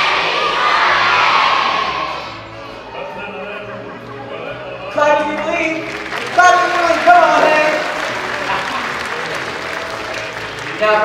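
A live audience at a stage show yells in unison, then breaks into sustained clapping and cheering, a dense, loud crowd roar with shouting children's voices mixed in.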